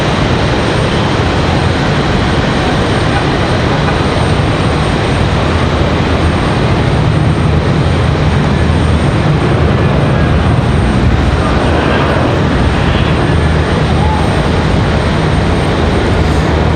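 A Copa Airlines Boeing 737-800 jet airliner at Raleigh Durham airport gives a steady, loud broadband engine roar that holds evenly from start to end with no voices.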